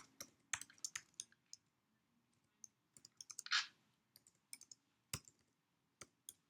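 Computer keyboard typing: scattered, irregular light key clicks in short bursts with pauses between them, close and fairly quiet, no voices.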